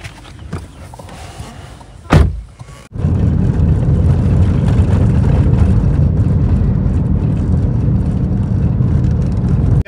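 A car pulls away: after a few faint handling sounds and a brief thump like a door, a steady loud engine and road rumble runs continuously to the end, with no voices.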